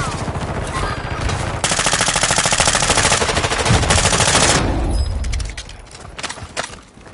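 Sustained machine gun fire in Call of Duty Warzone 2, dense and loud for several seconds, then breaking into scattered bursts and fading toward the end.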